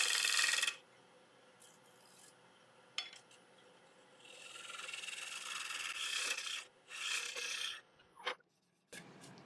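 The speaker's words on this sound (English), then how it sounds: "So we'll just use a little 1-inch shear scraper." Shear scraper working a piece of yew on a wood lathe, giving soft hissing scrapes in bursts of varying length, with short pauses and a few light taps, close and quiet.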